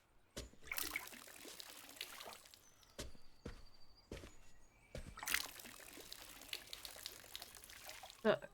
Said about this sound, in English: Questo annaffiatoio c'ha l'acqua infinita.